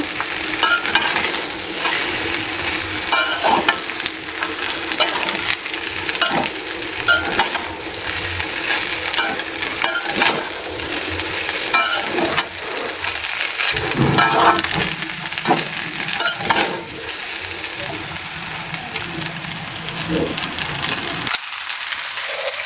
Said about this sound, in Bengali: আবার একটু সুন্দর করে আমি নাড়া দিচ্ছি